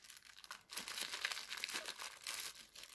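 A small plastic packet holding cables for a compact wireless lavalier microphone system crinkles close up as it is handled and opened, quiet irregular rustling bursts with no talk.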